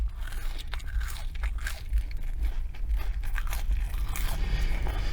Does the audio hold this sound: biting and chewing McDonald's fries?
yes